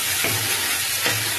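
A paste of garlic, ginger and tomato hits hot oil in a pan and sizzles with a dense, steady hiss, close and loud, with two soft stirring swells.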